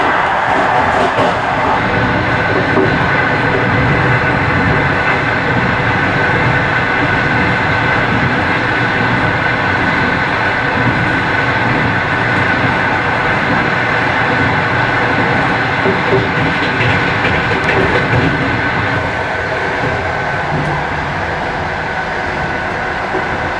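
Passenger train No. 360 runs through Belarus, heard from inside the carriage as a loud, steady rumble with faint wheel clatter. It continues unbroken throughout, with no talk.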